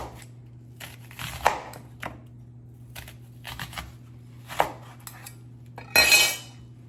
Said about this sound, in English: Now I'm going to go ahead and slice up my onion